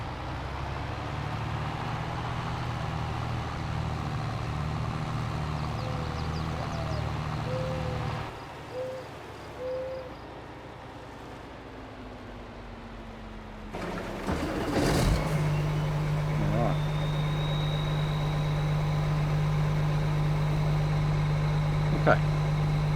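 Tractor and combine engines from the Farming Simulator 22 video game drone steadily for the whole stretch, a low continuous rumble that briefly quiets, then returns with a sharp transient and a louder, steadier hum.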